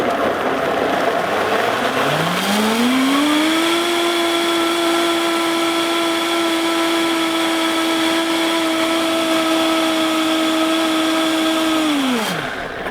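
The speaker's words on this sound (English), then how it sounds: "Let's give it a blitz. Make sure the lid is securely on and off we go." Countertop blender blitzing vegan chocolate mousse ingredients, the motor whining up to a steady high pitch, holding for several seconds, then winding down, loud and close.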